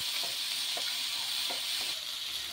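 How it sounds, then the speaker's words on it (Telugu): Chopped ginger and tomato fry in a hot pan for peanut chutney, a steady loud sizzle with faint crackles throughout and no talking. "ఇంకా ఇందులో అల్లం కొద్దిగా అండ్ టమోటో కూడా వేసేసి ఫ్రై చేసుకోవాలి."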